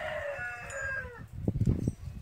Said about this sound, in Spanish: Y también los gallos que están cantando.